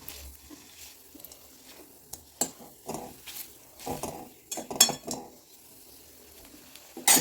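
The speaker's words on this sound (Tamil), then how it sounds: "நான் புளி வந்து கொஞ்சம் எண்ணெயில் அப்படி வறுத்தள்ளிக்கிறேன்" Tamarind is roasted in a little oil in a pan, heard as intermittent scraping and clinking of a utensil against the pan, close and irregular, with faint crackle and a distant bird calling between strokes.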